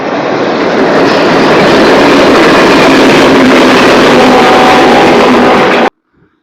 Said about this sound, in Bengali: এর পাশে কিন্তু রেল লাইন আমরা দেখতে পাচ্ছি, ট্রেন আসছে।